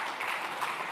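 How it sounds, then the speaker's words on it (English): A crowd at a security-related gathering claps on request, producing a steady, dense wash of hand claps that lasts throughout at moderate, even loudness. "I want 10 people to clap"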